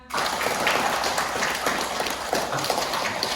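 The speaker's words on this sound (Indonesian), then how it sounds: "Tepuk tangan." A class of children in an Islamic religious education lesson breaks into clapping: a dense, close burst of many hands that starts abruptly and keeps going at an even level.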